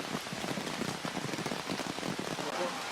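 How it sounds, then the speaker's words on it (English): Heavy rain pours down steadily at Fuji before a race start, a dense, continuous hiss of drops pattering on surfaces with no pauses. "It soon turns into a downpour."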